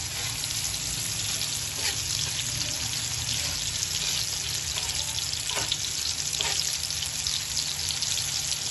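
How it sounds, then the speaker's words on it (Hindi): Dal and eggs frying in ghee, a steady broadband sizzle with watery crackle running throughout, fairly close and even, a few sharper bursts near the middle. "2 से 3 मिनट इसको हमने फ्राई कर लेना घी में"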